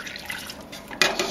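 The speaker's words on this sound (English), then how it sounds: "Now the ones that you have to add are the tangerine juice. We're going to put that in right now." Tangerine juice poured into homemade cranberry sauce in a kitchen, a brief soft liquid trickle with a splash near the end, close and alone.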